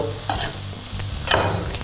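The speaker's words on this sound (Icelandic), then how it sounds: "ég var ekkert að hræra í kjötinu á meðan það var að steikja sig" Meat frying and browning in a pan, a steady loud sizzle heard up close, with a couple of brief louder scraping stirs and no talking over it.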